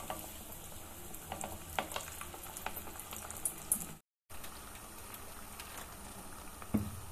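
Masala vada, chana dal fritters, fry in oil with a steady, fairly quiet sizzle and crackle, broken by one brief silent gap, and a few soft pops and taps throughout.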